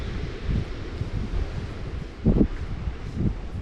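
Wind blows across a beach on an evening, a steady rushing hiss with a few stronger gusts buffeting the microphone, and no voices.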